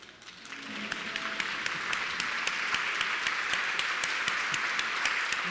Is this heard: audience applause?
yes